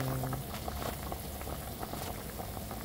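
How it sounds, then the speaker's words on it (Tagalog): Pork ribs for adobo boiling in a pot of water, a soft continuous bubbling and gentle popping heard up close at low volume. "Kaya pinapakuloan ko muna siya ng tubig."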